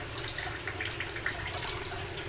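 Water is poured into gongura curry mixed with coconut powder and coriander powder in a pan, giving a steady, soft, splashing rush that continues without a break from start to end.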